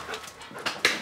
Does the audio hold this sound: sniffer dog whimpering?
yes